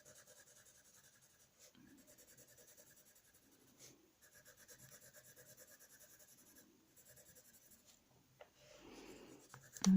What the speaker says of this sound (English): Now I'm going to sharpen this one again.